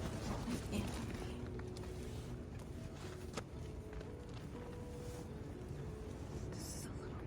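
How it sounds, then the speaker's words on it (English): Strong wind of about 40 to 50 mph roars through a campsite at night, a constant dense rumble buffeting the microphone, with soft rustles and brief thumps mixed in. "There's like 40 to 50 mile an hour wind going through here."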